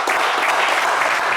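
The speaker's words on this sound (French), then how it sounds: "Allez, des applaudissements pour Jules," Studio audience at a French TV game show breaking into a dense burst of applause, loud and close, filling the brief moment with no voices over it.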